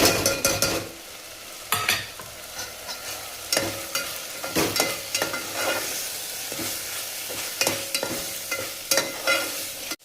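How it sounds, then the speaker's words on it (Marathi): Turmeric and homemade masala fry in a pan with a constant close sizzle, broken by scraping stir strokes and light clinks of a spoon against metal, with no talking. "चला ह्याच्यामध्ये आता मसाला टाकून घेऊया. हळद आणि हा मसाला घरचा."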